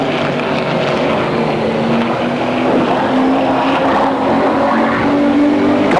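Race cars roar around Motordrome Speedway, a continuous loud engine drone with a rising and falling whine as cars pass, heard from trackside without any talk.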